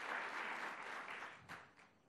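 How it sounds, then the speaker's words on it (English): An audience at a governor's mental health event applauds for guests, a brief, soft burst of many hands clapping that fades gently toward the end. "Let's give them a round of applause as well."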